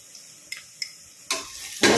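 Onions sautéing in a pan with salt and turmeric for a vada curry: a few light taps, then bursts of hissing sizzle as the mixture is stirred, close and moderately loud.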